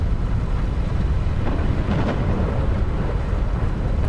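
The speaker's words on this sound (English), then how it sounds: "Storm is really coming in." Steady rumbling thunderstorm ambience with rain and wind in a VR flight combat game, a continuous loud wash with a swell near the middle and no speech over it.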